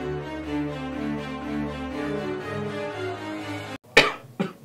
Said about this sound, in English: Cough one more time.